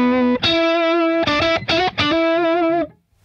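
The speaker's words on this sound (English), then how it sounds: "I'm gonna demonstrate by turning up the octave minus one" Electric guitar through a BOSS OC-5 octave pedal set to octave minus one, a few sustained notes doubled an octave below with a thick, buzzing tone, played alone and ringing out before a brief silence.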